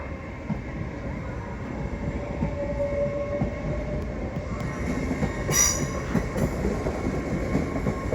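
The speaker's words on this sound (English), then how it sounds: "coming through is a Lumo service from Edinburgh to London King's Cross" A Lumo passenger train from Edinburgh to London King's Cross runs through Doncaster station, giving a steady, loud rolling rumble with rhythmic wheel clatter and a brief high squeal of wheels near the end.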